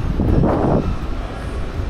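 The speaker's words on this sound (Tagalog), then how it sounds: "Mahangin kasi dito." Wind gusting into the microphone under a bridge in Osaka, a steady low rumble with a brief stronger buffet early on, no voices.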